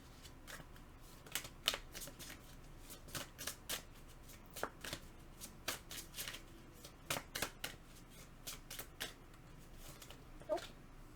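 Cards are shuffled for a pick-a-card reading in a quiet room, a series of crisp riffling bursts and soft snaps repeating at an uneven pace, close and fairly faint, with no voices.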